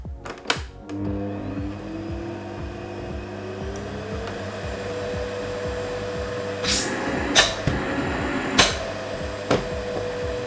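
A repaired vacuum cleaner, just fitted with a replacement power cable, runs with a steady whirring motor hum, with a few sharp knocks and clicks near the start and later on.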